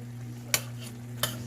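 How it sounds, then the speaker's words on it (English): Chicken and broccoli cooking in milk in a pan, stirred with a utensil: two short, faint scrapes against the pan over a low steady background hum, no voices. "I'm going to stir this up"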